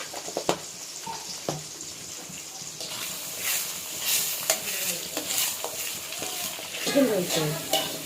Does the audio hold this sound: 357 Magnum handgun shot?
no